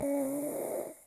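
A man snores once, a short nasal rattling breath close to the microphone, with nothing else heard.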